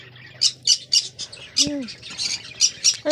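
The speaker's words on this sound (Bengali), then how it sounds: "পাখিগুলো দেখো কত রং বেরঙের পাখি আছে এখানে, রঙিন রঙিন।" Several colourful pet birds squawk on a rooftop, a rapid run of loud, sharp calls repeating in bursts close by, with one lower squawk in the middle and background chatter.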